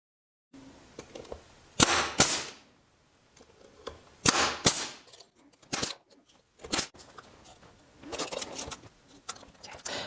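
Nails driven into pieces of scrap wood on a board, a series of sharp close hammer strikes in uneven groups with quiet gaps between, some blows in quick doubles, no talk.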